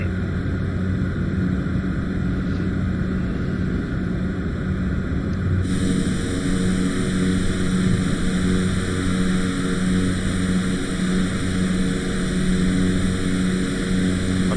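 Cessna C208B Caravan turboprop engine in Flight Simulator 2020, a steady droning hum with a sudden tonal shift partway through as the throttle changes, then a constant propeller whine with no talk.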